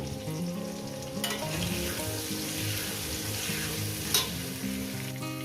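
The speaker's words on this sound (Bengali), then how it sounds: "দিয়ে এটাকে আমি পাঁচ মিনিট ধরে ভেজে নেব" Fish head with turmeric frying in a pan for a katla fish-head and cabbage curry, a steady close sizzle with scraping stirs and a brief clink near the end.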